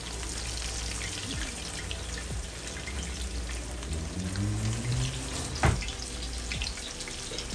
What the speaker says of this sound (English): here I am going into my cast iron frying pan